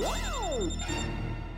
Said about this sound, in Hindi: मैंने सेम रिंगटोन सुनी थी